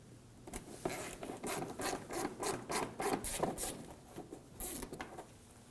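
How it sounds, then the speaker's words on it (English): A stubby ratchet loosens a fender liner bolt on a 2008-2011 Ford Focus, giving a close, quick run of rasping clicks in short uneven bursts, with no voices. "We're just going to use our stubby ratchet."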